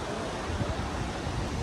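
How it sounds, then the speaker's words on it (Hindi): The Alaknanda river flowing below the mountains near Badrinath, a continuous broad rushing roar heard from a distance, steady and loud with wind-like noise and no voices. "अलकनंदा नदी बहते हुए"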